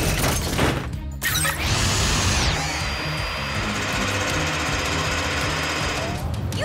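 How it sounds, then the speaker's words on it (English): A cartoon mini drill bores post holes at a construction site, a loud continuous rattling and grinding hum that swells and holds steady throughout. "Now, Zuma, use the mini drill to make post holes"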